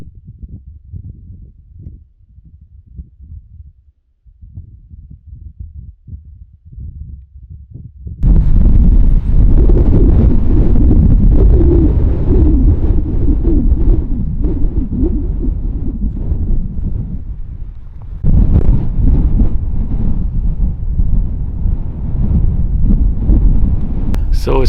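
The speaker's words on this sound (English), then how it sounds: "it was pretty windy, a consistent wind" Strong, steady desert wind in Arizona buffets the microphone, roaring loudly after a quieter, gusty start, with a brief lull before it surges again.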